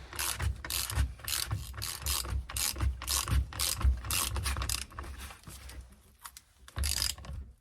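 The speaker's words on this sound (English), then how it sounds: "We get a couple wrenches here and we'll tighten that up." A ratchet wrench tightening a nylock nut on a VW Beetle idler arm, with close rhythmic clicking bursts of ratcheting strokes repeating steadily and no talk.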